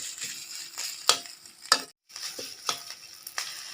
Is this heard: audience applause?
no